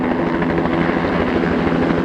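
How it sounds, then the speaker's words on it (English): A helicopter flies over the Mitchell Falls area in the remote Western Australian outback, its steady, loud rotor thrum and whine holding constant without a break and with no voices. "there's actually helicopter flights out here"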